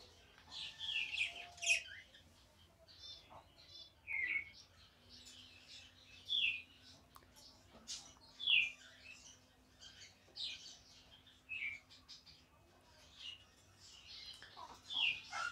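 Budgerigar chicks chirping in a cage, thin high squeaky cheeps coming in scattered bursts over a low steady hum, fairly quiet and close.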